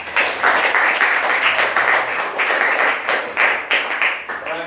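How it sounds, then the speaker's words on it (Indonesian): A classroom group claps for a presenting group, a lively patter of hand claps with uneven rhythm and distinct individual slaps rising and falling over several seconds. "Tepuk tangan untuk kelompok 2."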